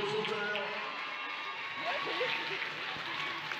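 Festival crowd in Lille applauding and cheering as authors arrive at a romance-book event, a steady wash of clapping with scattered whoops, somewhat distant, under a talking voice.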